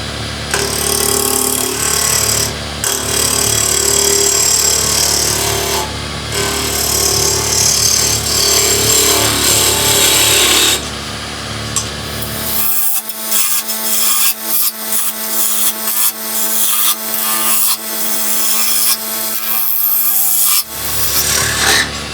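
Eccentric wood turning on a lathe spinning near 2000 RPM, a loud continuous rasping and scraping of the tool cutting the off-center workpiece, dense for about thirteen seconds and then thinning into sparser, choppier cuts with brief gaps.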